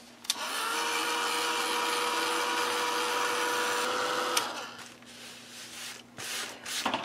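A drying tool blows over matte medium on an art journal page, giving a steady, close whirring hum for about four seconds that then cuts off, followed by quieter handling noises.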